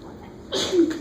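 A single sharp sneeze bursts out in a math lecture after a quiet moment, close and fairly loud, with a short breathy tail.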